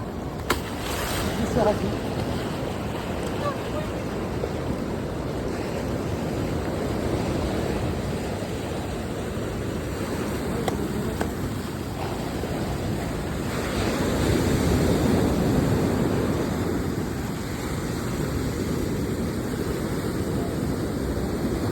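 Sea waves at Munambam beach, with seawater surging toward nearby houses, roll and wash continuously in a dense surf roar, buffeted by wind noise on the microphone, and swell louder midway.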